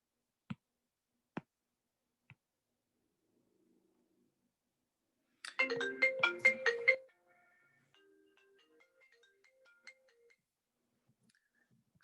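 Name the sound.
phone ringtone from a spam call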